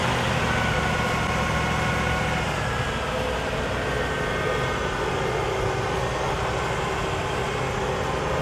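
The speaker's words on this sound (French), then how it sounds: "Écoutez-moi le son du moteur." Lincoln Continental, a big-displacement American car, idles at a US car meet in a steady low rumble with constant vibration, close and loud, with no talking.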